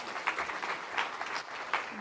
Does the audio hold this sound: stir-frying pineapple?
no